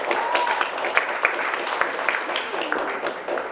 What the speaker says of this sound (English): Let's give Xavier another round of applause